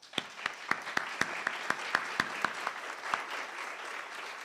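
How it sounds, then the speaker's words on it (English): Hall of fame audience for school inductees claps in a burst of sharp, distinct claps that thin out and fade over a few seconds, with no talk over it. "So I want to give all the inductees another big round of applause."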